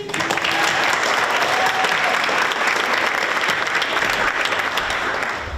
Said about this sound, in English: Let's get a huge round of applause for the video and podcast team.